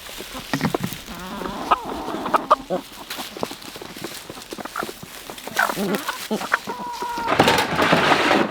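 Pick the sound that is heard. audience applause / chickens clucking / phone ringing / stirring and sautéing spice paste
chickens clucking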